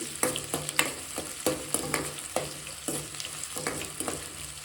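Chopped onions fry in hot oil in a pan, a soft continuous sizzle broken by repeated scraping strokes of a spoon stirring them, close and fairly quiet with no talking.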